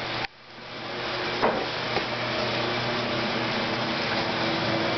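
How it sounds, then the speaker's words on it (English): A 1959 Dallas blower rotator from a Thunderbolt panel runs steadily, its motor and gear reducer giving a dense, even mechanical whir after a brief switch-on, with a couple of faint knocks early on. "Let's turn on the rotator here."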